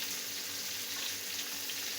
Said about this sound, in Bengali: আমি এটা এখন উল্টাই দেবো, উল্টাই দিয়ে ভাজবো।